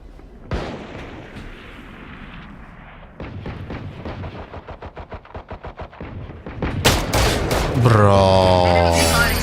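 Gunfire erupts during a Valorant pistol-round match, with a single sharp shot followed by a rapid burst of evenly spaced shots, then louder blasts and ringing effects at the end.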